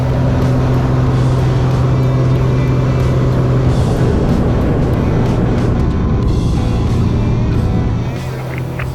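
A Trinidad TB20 light single-engine airplane taking off, its engine a loud steady drone with a strong low hum that holds throughout and eases slightly at the end.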